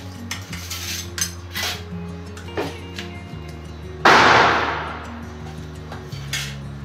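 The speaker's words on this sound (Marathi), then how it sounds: "आता मस्त मिक्स करून देते" Semolina and sugar are mixed in a vessel for rava karanji, a run of scraping and clinking strokes from a utensil with one sharp, louder knock partway through, no voices.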